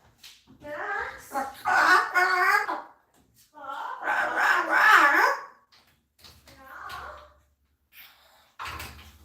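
A pet bird calls and chatters nearby in a home, loud warbling bursts with pauses, ending in a sharper squawk.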